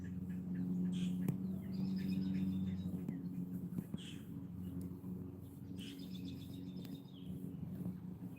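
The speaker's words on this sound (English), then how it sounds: "Just sitting out here listening to the birds." Faint bird chirps and short calls scattered over a steady outdoor hum, with a few soft tweets drifting in and out at a distance.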